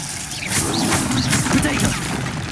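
Spell effects crackle and boom in Hogwarts Legacy combat, a continuous loud wash of magical blasts, whooshes and crashes with a voice calling out over the action.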